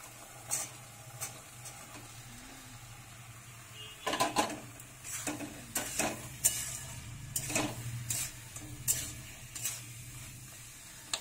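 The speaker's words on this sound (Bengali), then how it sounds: "এবার আমি কেটে রাখা শিমগুলো দিয়ে দেবো" Chopped flat beans tipped into frying spice mix in a pan, irregular scraping stirs and clatters over a soft steady sizzle, fairly quiet with bursts of activity in the second half.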